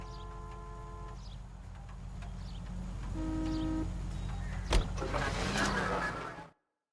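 A car driven in the video game L.A. Noire gives a steady low engine rumble that grows slightly louder midway, with a sharp knock near the end before the sound cuts off abruptly.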